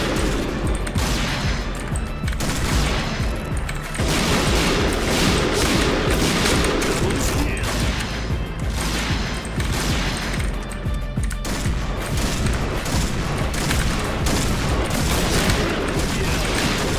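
Rapid automatic gunfire from the first-person shooter Point Blank, in a zombie mode, clatters almost continuously and loudly for the whole stretch, with dense overlapping shot bursts and no clear pauses.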